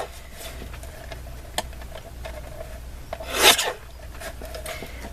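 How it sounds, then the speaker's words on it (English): A paper guillotine slices black and white cardstock into strips with one short rasping cut midway, surrounded by faint ticks and light handling noises. "I'm liking this guillotine a lot so far."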